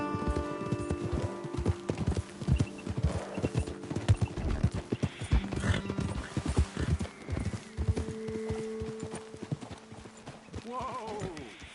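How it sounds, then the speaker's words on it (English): Horses' hooves clip-clop at an uneven walking pace in the Red Dead Redemption 2 game, several animals moving together, with a horse whinnying near the end; no speech. "Okay, let's dismount here. Best leave the horses back a bit."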